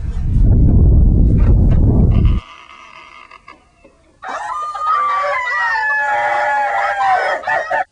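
Chickens crow and squawk in long, warbling calls, following a burst of loud rumbling noise and a brief quieter gap.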